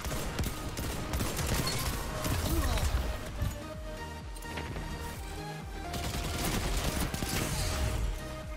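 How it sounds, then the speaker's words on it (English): Rapid bursts of automatic gunfire and repeated shots from the Destiny video game in an Iron Banner match, loud and dense, with crashes and other game effects layered throughout and brief pauses between volleys. "Saved me with your gunshots."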